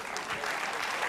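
Brief burst of audience applause from a gala stage show, a short dense patter of clapping hands.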